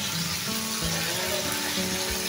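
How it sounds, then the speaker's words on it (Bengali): Meat for a roast and biryani fries in a pot, giving a dense, steady sizzle with a soft crackle throughout and a couple of faint low knocks, like stirring against the pot. "একটু ভেজে নেব"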